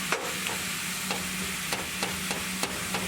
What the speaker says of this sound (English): the meat is turning brown and the potatoes are also golden brown and the onions are just like mixed in there